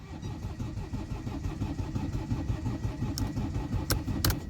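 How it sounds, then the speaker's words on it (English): A Mercedes-Benz W204 engine cranks without firing, a rhythmic churning starter-motor whir heard steadily and fairly faint, with a few sharp clicks near the end. "Now the engine is cranking, and now I'm going to find out for what reason it's not starting."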